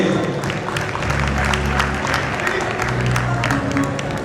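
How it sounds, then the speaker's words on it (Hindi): Audience at the International Sindhi Sammelan applauding in a hall, a steady burst of clapping from the crowd with voices mixed in beneath it. "जोरदार तालियों प्लीज।"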